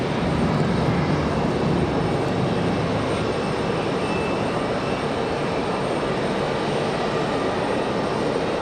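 An F-15 fighter jet on a touch-and-go approach at Raleigh-Durham airport makes a continuous, dense jet roar that stays steady and fairly loud, with no talking.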